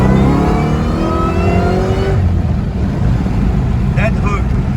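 A Terminator Cobra accelerating hard for a race run from 40, engine loud and close with a rising rev through the gears before easing off, with voices briefly audible near the end.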